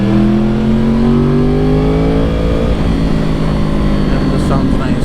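A motorcycle with a full system exhaust revs up close and loud, its deep engine note climbing steadily in pitch before breaking into a rough, sustained roar.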